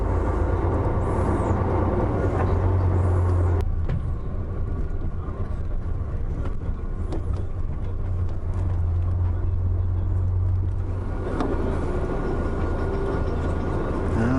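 SAPTCO coach rolling through Riyadh traffic, a steady low engine and road rumble that fills the whole stretch, with a brief shift in tone partway through and no talk over it.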